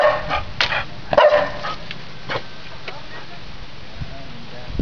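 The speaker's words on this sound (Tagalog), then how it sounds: "yan yung aso na kabantay dito sa bahay" Jackie, a house guard dog, gives a few sharp barks and yips close by, mixed with whimpers and voices talking over a noisy outdoor background.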